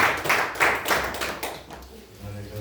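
Rhythmic hand clapping in a church service, a handful of bursts at a steady beat that fade out, heard alongside singing or speaking voices.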